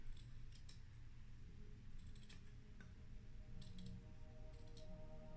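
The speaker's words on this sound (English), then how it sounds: "So I'm just gonna trim it off a little more." Scissors trim a small protruding piece while a pink trio is being made, giving a few faint, crisp snips spaced out over a low steady background hum, with no talking.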